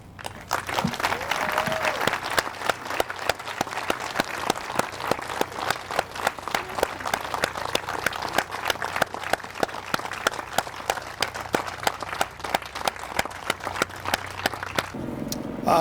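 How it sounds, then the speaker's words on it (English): Sustained applause from a sizable crowd at a veterans' honor quilt ceremony, steady and enthusiastic, continuing for a long stretch before cutting off. "give them a very rousing round of applause for their service"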